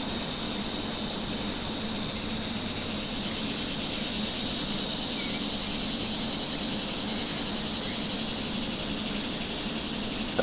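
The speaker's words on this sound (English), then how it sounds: "I think I'm hearing cicadas in the background." Cicadas buzz in a dense, unbroken high-pitched drone, loud and steady throughout, with no voices over them.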